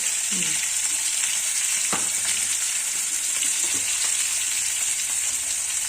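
Potatoes fry with turmeric, salt and spices in a pan, giving a loud, continuous hiss of sizzling oil with a few spatula scrapes and knocks near the start.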